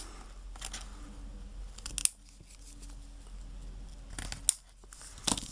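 Paper being cut with scissors for a scrapbook embellishment, giving a few sharp, close snips spaced a couple of seconds apart over a faint background hiss, with no talking.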